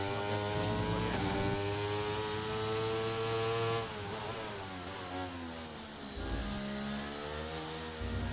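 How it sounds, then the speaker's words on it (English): Race car engine in the F1 23 video game revving hard, a loud sustained high-pitched whine that holds steady, dips and climbs again, with no talking over it. "Esports guys literally revving the guts out of the"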